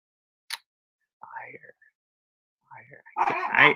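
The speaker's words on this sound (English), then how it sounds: "Sorry, my dog." A dog barks a few times, short and fairly faint, in a quiet indoor room during a podcast recording, with soft low talk between the barks.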